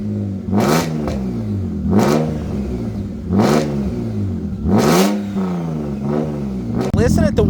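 A BMW E36 328is drift car with a loud, modified exhaust revs repeatedly, each rise and fall sweeping up and down in pitch in close succession with a slight choppy idle between, while someone talks over it.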